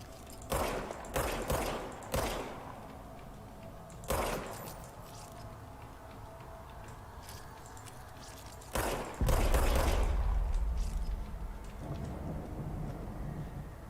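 A handful of sharp, widely spaced gunshots crack out in the Control action game over a low, steady background rumble, some close together and one followed by a heavy booming impact, with no talking.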